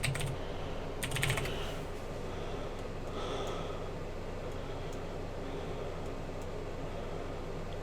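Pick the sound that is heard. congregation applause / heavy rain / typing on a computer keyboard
typing on a computer keyboard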